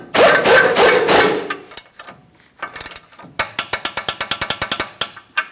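A torque wrench ratchets a tie rod mounting nut on a 2015-2025 Ford Transit-250. A loud burst of mechanical noise comes first, then a few clicks, then a steady run of about a dozen sharp, evenly spaced ratchet clicks, close and with no talk.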